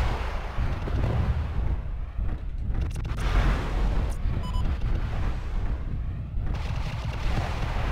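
Mech weapons firing in MechWarrior Living Legends on the Lakefront map, a continuous heavy rumble of booming shots and blasts running throughout, with sharper bursts near the middle and no talk.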